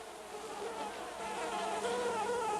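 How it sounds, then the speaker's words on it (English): Rhine mosquitoes (Aedes vexans) swarm in a continuous, droning whine, many wings layered into a steady close buzz without pause. "in the space of just 2 minutes, a human being here will attract up to 800 mosquitoes"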